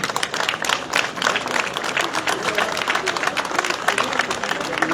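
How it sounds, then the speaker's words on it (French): Crowd applause at a rally awards ceremony, dense and sustained clapping from a sizable audience close by, with voices mixed in throughout. "si on pouvait l'applaudir lui et pas nous"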